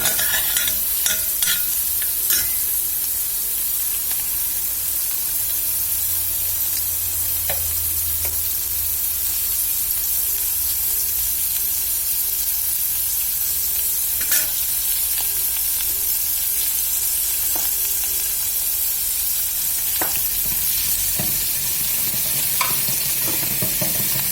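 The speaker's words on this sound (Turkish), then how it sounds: "hani bir tık kavuracağım. Aromaları birbirine geçsin diye." Steady, loud sizzling of vegetables sautéing in a hot pot for soup, with occasional clinks and scrapes of stirring throughout.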